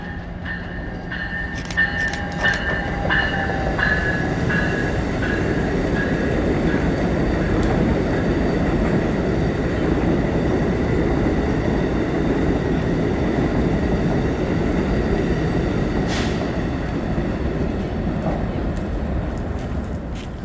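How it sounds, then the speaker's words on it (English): A new Amtrak Avelia train passes at speed, a loud continuous rushing roar of wheels and rails lasting the whole stretch, with faint clicks and a high whine early on. "Instead, it is one of Amtrak's brand new Avalia trains that have just entered service this summer."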